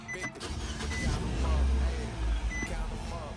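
A 2014 Nissan Sentra with a faulty mass airflow sensor cranks and catches, a loud low engine rumble swelling near the middle of the clip with some clattering and faint background noise around it.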